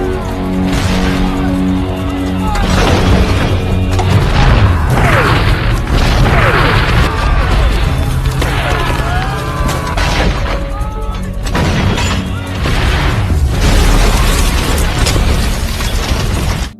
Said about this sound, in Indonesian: Serangan artileri itu berhasil membuat tentara Vietcong mundur untuk beberapa saat.